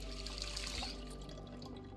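A character drinking water in the video game Project Zomboid: a short, soft, faint liquid gulping and sloshing sound over a steady low hum, with no talk.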